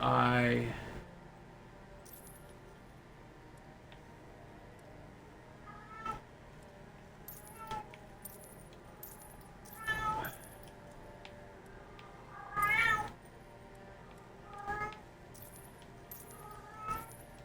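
A pet cat meows and cries several times at a distance, short plaintive calls spread across the quiet indoor room, with a faint jingle and a brief voice near the start.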